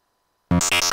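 Brief burst of a squelchy acid psytrance lead from an Access Virus A synthesizer, loud and abrupt after half a second of silence, with rapid filter-swept pulses.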